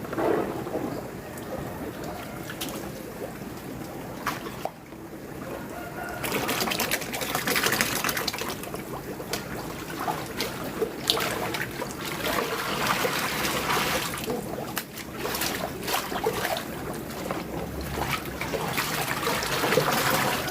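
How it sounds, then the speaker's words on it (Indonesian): Bubbling water from an aerator in a home biofloc fish pond, a continuous dense fizz and gurgle with occasional splashes and thumps, heard up close. "ada gelembung-gelembungnya ya, aeratornya ya."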